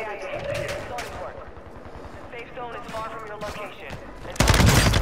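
Gunfire rattles in the Call of Duty Warzone Resurgence video game beneath players talking, ending in a louder, closer blast.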